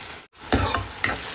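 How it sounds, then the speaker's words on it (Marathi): Tomato and onions sautéing in a pan for a green peas and brinjal bharta, with two bursts of sizzling and stirring scrapes after a brief silent gap, close and moderately loud. "आता आपण एक टोमॅटो घालू, टोमॅटोला पण छान असं परतून घेऊया सॉफ्ट होईपर्यंत"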